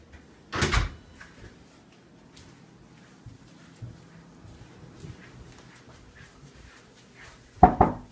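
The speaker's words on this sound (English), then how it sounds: "Shut the door." A kitchen door is shut with a loud close thump, followed by quiet room noise and then a second knock-like thud at the end.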